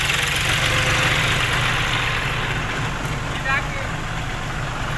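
A steady, rumbling engine idles continuously, with low throbbing pulses and broad noise throughout; a brief higher sound flickers near the end.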